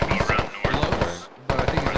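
Automatic gunfire in the military shooter game Squad, rapid rhythmic bursts of loud shots close by, with a brief pause before firing resumes.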